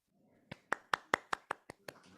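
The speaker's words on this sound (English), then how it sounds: "Golf clap here." A quiet golf clap, eight soft, evenly spaced hand claps close by in a quiet room, ending with a faint murmur.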